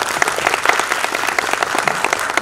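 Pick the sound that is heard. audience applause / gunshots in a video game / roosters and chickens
audience applause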